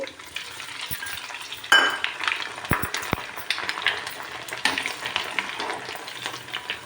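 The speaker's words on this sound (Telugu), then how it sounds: "తాలింపుకి తర్వాత ఆవాలు మినప మినపగుళ్ళు రెండు మిర్చి పోపులో వేసుకున్నాం" Mustard seeds, urad dal, two red chillies and garlic crackle in hot oil for a tempering, a fairly faint, busy sizzle with sharp pops and a few metallic spoon clicks against the pan, no voices.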